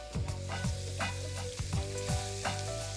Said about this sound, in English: now we are going to add our mince